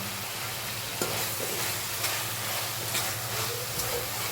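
Spinach frying in a pan over a full gas flame, a steady dense sizzle with faint periodic scrapes of a spatula stirring about once a second, close and continuous with no voices.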